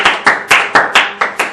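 A church congregation claps in unison to acclaim God, about seven sharp, evenly spaced claps in quick steady rhythm, loud and close, with no talking over them.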